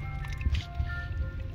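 Water drains and gurgles from a leaking Orbit sprinkler head, with soft squishy bubbling pops and drips over a low steady rumble, close and fairly quiet.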